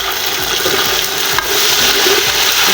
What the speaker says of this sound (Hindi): इससे हम थोड़ी सी बुनाई करेंगे।